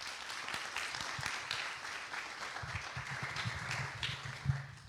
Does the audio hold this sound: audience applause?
yes